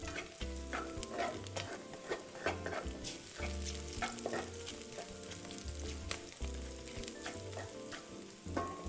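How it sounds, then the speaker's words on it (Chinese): Shiitake mushrooms and dried shrimp stir-frying in a pan for a steamed taro cake, with steady sizzling and frying crackle and repeated scraping stirs of the spatula, close and continuous with no talk. "香菇先炒至散发香气，再加入虾米一起炒。"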